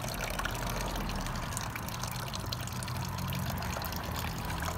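Coolant drains from the radiator of a 2001 Triumph Sprint RS 955i motorcycle into a pan, a continuous close trickling and splashing of liquid that stays steady and fairly quiet throughout, with no talking.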